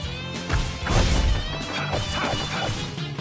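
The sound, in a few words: wrench smash attack in Tales of Vesperia video game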